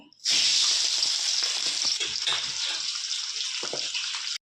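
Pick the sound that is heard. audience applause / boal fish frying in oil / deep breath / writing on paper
boal fish frying in oil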